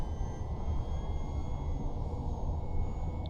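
Twin electric motors of an E-flite Twin Otter 1.4 RC airplane with 20% differential thrust make a continuous whirring drone with a faint high whine, steady and moderately near, alone without talk.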